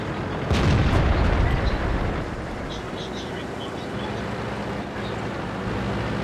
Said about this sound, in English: Oh great, of course they have artillery there.